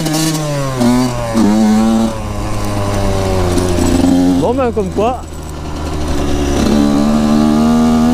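A small 85cc motorcycle engine labors and revs up and down while climbing a hill, loud and close, with someone talking briefly in French over it.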